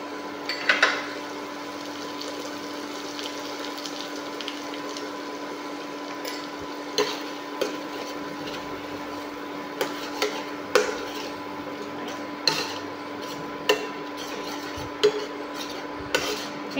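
Pabda fish curry with cumin powder and Kashmiri chilli powder being sautéed in a pan, heard as soft steady sizzling under repeated light metallic clinks and scrapes of a utensil stirring against the pan.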